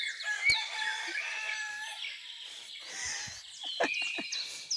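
A native rooster crows amid scattered chicken clucks, fairly close, with no one talking.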